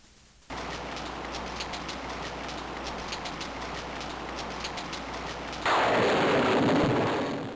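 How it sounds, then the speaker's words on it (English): In the King's Quest VI adventure game, rain suddenly sets in as a loud, steady broadband hiss near the end, following a stretch of rhythmic pulsing game sound, with no talking. "It starts to rain."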